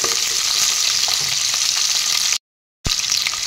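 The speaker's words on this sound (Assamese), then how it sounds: "পিঁয়াজখিনি এনেদৰে লৰাই দি দিছোঁ এফালৰ পৰা" Onions being stirred and fried in a pan for chicken curry give a loud, continuous close sizzle with scraping stirs, broken by a brief half-second dropout before the frying resumes.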